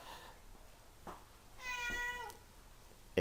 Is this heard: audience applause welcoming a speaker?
no